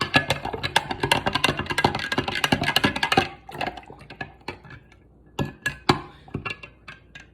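Metal spoon stirring salt into water in a glass jar, close up. A fast run of bright clinks and scrapes against the glass slows into scattered single taps.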